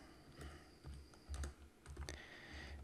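Typing on a computer keyboard, a quick irregular run of close, soft key clicks and taps at low volume, with no voices.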